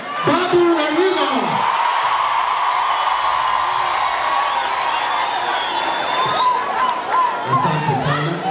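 A large crowd at a Kenyan political gathering cheers and shouts for Babu Owino, a dense, sustained roar of many voices with whoops rising throughout, loud and close, with talk mixed into the din.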